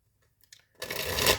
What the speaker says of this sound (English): And I am going to shuffle.